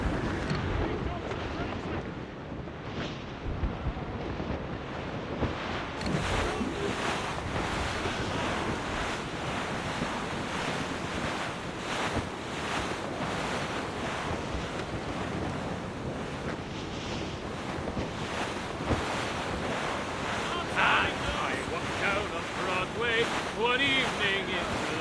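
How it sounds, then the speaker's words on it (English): Wind and ocean waves at sea in the video game Assassin's Creed Rogue make a steady, loud roar of surf and gusting wind throughout, with a faint creaking sailing ship mixed in. "That wind's trouble, Captain Cormac."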